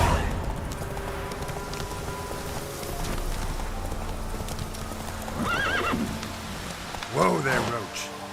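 Roach, a horse in the Witcher 3 video game, trots with steady clip-clop hoofbeats under light rain, then gives two loud whinnies near the end, close and clear.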